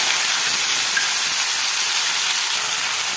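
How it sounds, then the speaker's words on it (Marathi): Diced potatoes sauté in hot oil in a kadhai, giving a loud, even, steam-like hiss that holds steady throughout with no voices. "बटाटे छान परतून घ्यायचं"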